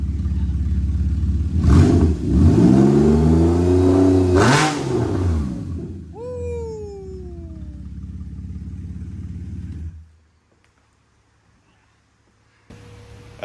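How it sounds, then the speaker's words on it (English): A Porsche 911 with a throaty exhaust, heard close up on a cold start, revs hard twice in loud rising and falling sweeps, then settles to a rumbling idle that cuts off abruptly. "That's probably one of the best sounding Porsches I've ever heard right there."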